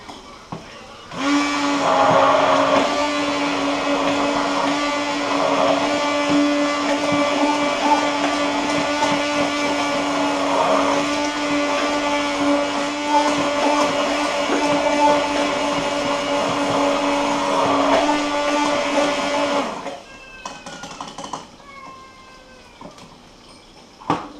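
An electric kitchen mixer runs steadily for about eighteen seconds, giving a loud, constant motor whine with a strong hum, then switches off into quieter handling noises.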